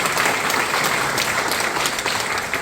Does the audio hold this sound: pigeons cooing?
no